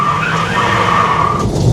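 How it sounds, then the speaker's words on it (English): A 1954 GMC truck gives a short, sharp tire chirp, a brief squeal over the rumble of its engine, close and loud. "Let's have a little tire chirp."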